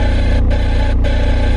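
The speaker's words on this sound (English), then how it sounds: "Do you hear this car? This car is like sounding crazy." Car engine running with a faulty, erratic sound, a loud steady idle with a rhythmic pulsing knock and two short dips in the hiss, heard close and alone.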